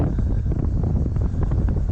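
Strong headwind blowing down from the mountains roars steadily across the microphone on a road between Antalya and Izmir, a loud continuous rumble and buffeting with no pauses.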